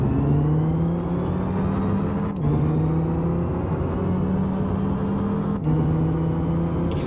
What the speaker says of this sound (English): You can hear that supercharger.